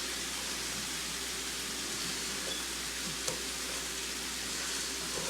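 Rice toasting in hot oil in a pan before a broccoli cheese chicken casserole bakes, giving a steady, even sizzle like light rain, close and continuous with one faint tap.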